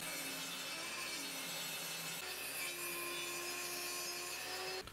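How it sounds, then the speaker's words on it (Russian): A hand saw cutting a glued wooden furniture panel board 1.5 cm thick into pieces, steady continuous rasping strokes close up, ending abruptly, no talking. "На той же пиле распилил на нужные куски."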